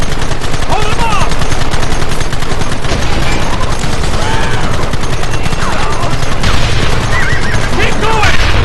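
Dense, loud gunfire from the video game Red Dead Redemption during a chase, rapid overlapping shots with shouting voices mixed in, continuous across the whole stretch.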